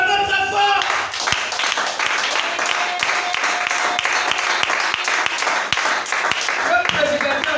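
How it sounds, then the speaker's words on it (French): Loud sustained applause from a church audience during a sermon, dense continuous clapping with cheering voices mixed in across the whole stretch. "Acclamez très fort."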